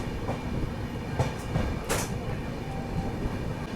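The Indore Mahamana Express rolls slowly along the rails in a continuous low rumble, with faint clicks and brief hissing bursts, heard from inside a 3rd AC coach without speech.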